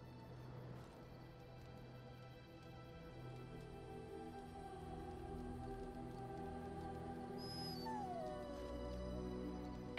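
A dog in Dragon Age Origins whimpers and gives a thin, wavering howl that rises and falls, fairly faint beneath a steady droning game score.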